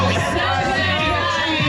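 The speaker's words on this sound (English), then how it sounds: "And already there are people here cheering." Spectators on the Lions Gate Bridge cheering passing cyclists during a car-free Whistler gran fondo ride, a brief steady wash of crowd shouts and whoops mixed with strong wind and road noise.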